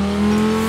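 A car in the racing game Forza Horizon 4 changing down a gear, a brief, loud, tonal engine note that shifts pitch over a moment of continuous revving.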